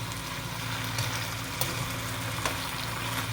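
Moss rose (portulaca) greens stir-frying in plenty of oil with oyster sauce, a steady loud sizzle broken by a few sharp scrapes and clinks of the spatula.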